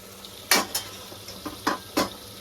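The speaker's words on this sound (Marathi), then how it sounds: "आता थोडं हलवून घेऊ." Masala is stirred in a pan while mutton gravy cooks, giving several scraping, sizzling strokes in an irregular rhythm, close and clear with no talking.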